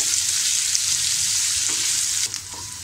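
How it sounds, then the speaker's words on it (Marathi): Chopped onion frying in plenty of oil for a mushroom and peas masala, a steady close sizzle with a brief stirring scrape near the end. "थोडे मी तेल त्याच्यात जास्त घातलेलं कारण आपल्याला ग्रेव्ही छान त्याची ग्रेव्ही दिसली पाहिजे आणि गुलाबी रंग येईपर्यंत आपल्याला त्याला परतून घ्यायचं आहे"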